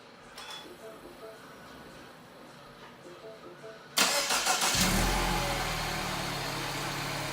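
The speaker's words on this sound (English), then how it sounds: "the remote start sequence will then occur" A car's engine cranks and catches via a remote start system after a quiet lead-in, then settles into a steady, fairly loud idle that runs to the end.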